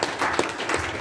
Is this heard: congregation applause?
yes